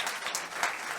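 A concert audience claps briefly at the close of a live classical performance, a short, moderately faint burst of applause with no voices over it.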